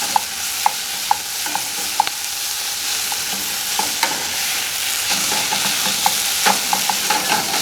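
Tomato paste cooking in a pan gives a continuous sizzle while a utensil stirs it, tapping and scraping the pan in a loose, irregular rhythm throughout.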